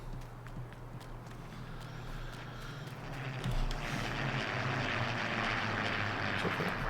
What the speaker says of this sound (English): check out the planes going over.